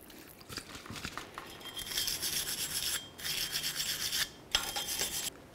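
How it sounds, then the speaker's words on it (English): Scrubbing and rasping on a 1998-2011 Ford Ranger front wheel hub's bearing mating surface, with close, irregular strokes in bursts separated by short pauses, no talking. "Now we're going to clean up the mating surface that's on the wheel bearing here."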